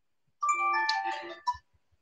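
A phone rings with an incoming video call, a melodic ringtone of sustained electronic tones playing at moderate level for about a second, followed by a short tap and faint clicks.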